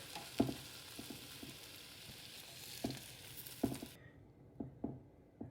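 Steak bites being flipped over in an air fryer basket: faint background hiss broken by several sharp metallic clicks and taps from tongs against the basket, spaced irregularly, then quieter once the fan noise drops.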